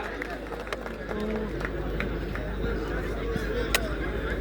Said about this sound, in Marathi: एकदा जोरदार टाळ्या होऊन जाऊ द्या महाराजांसाठी सुद्धा.